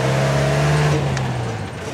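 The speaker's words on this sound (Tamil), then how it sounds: "அந்த ஜீப் ஏறுது." A jeep on a forest safari climbing a steep off-road track, its engine droning loud and close with a steady low hum that slowly eases off.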